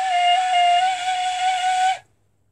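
A flute blown with the holes uncovered gives one steady, breathy whistling tone that holds for about two seconds and then stops abruptly.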